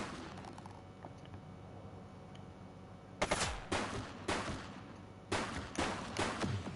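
Bursts of gunfire in The Precinct video game: a quiet stretch, then loud sharp shots in quick clusters, several close reports after about three seconds and another flurry near the end.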